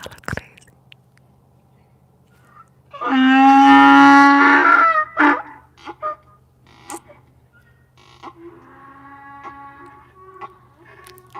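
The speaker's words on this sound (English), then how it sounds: "You finally heard the donkeys." Donkeys bray, one loud, harsh, honking call up close lasting about two seconds, followed by short grunts and a fainter, more distant second bray.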